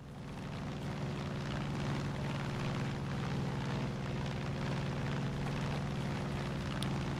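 A helicopter in the video game Far Cry 5, a continuous loud rotor roar with a steady low thrumming pulse that holds evenly from start to finish, with no talking.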